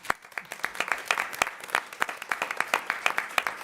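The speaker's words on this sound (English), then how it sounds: "let's clap" Applause rises from the audience at an Oregon Tourism Commission meeting, a sustained burst of many hands clapping at close range with distinct individual claps audible throughout.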